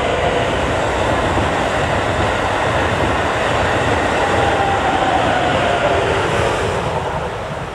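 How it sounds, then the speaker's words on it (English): A train rumbles past close by, a dense continuous roar of wheels and cars that holds steady before starting to fade at the end. "here comes that other train."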